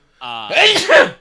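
One loud, close sneeze, a brief voiced intake followed by a sharp burst, lasting about a second.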